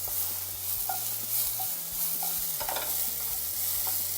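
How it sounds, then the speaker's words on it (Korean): Paprika and garlic stir-fry in oil in a hot pan for fish-cake side dish, a steady close sizzle with a few scraping stirs of the spatula. "자, 파프리카가 맛있게 볶아주고 있습니다."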